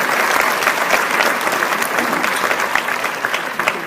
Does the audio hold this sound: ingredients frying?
no